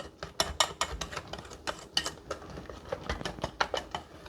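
Pancake mix is beaten in a bowl to break up the lumps, giving a quick, irregular run of clicking, tapping utensil strokes against the bowl, close and fairly quiet, with no talking.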